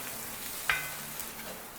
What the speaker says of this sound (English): And we want to stir this around and get that flour cooked and mixed around well.